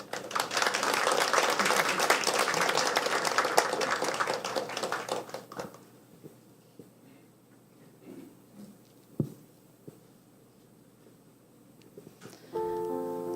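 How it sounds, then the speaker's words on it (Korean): A church congregation at a Sunday service with infant baptism applauds loudly for about five seconds to welcome a parent forward, then falls quiet with scattered small sounds before soft organ-like tones enter. "우리 나올 때 박수로 환영하겠습니다"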